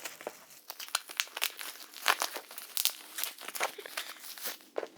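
A taped-up package torn open by hand without scissors, close and fairly quiet, with irregular bursts of crinkling and ripping of tape and cardboard coming in quick, uneven succession.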